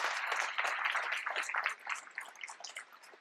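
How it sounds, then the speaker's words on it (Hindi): An audience at an achievers' recognition event claps steadily for the honourees, a dense, even patter of many hands that eases slightly toward the end. "एक जबरदस्त तालियां इन सभी अचीवर्स के लिए"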